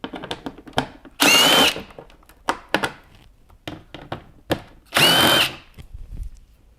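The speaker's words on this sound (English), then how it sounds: "next step is to remove these two 7mm screws" A power drill spins out 7mm screws from a C7 Corvette side skirt in two loud, short whirring bursts, separated by clicks, taps and handling knocks close at hand.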